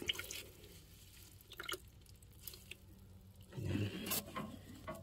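Water drips and trickles from a soaked block of coconut fiber substrate as it is squeezed by hand, with faint drops, a soft wet squish and a louder splashing burst near the end, close and quiet.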